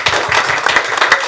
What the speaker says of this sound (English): he deserves an applause for that